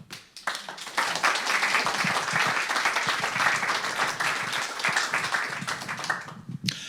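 Sustained audience applause, dense and steady for several seconds, with many hands clapping together before fading out at the end.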